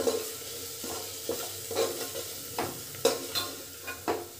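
Masala with chilli powder frying in oil for pavta rice, a moderate sizzle punctuated by regular spoon strokes and light scraping against the pan, close and fairly quiet.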